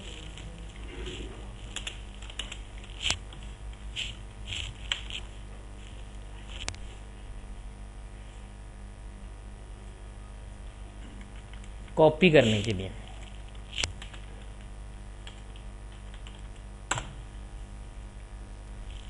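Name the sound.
typing on a computer keyboard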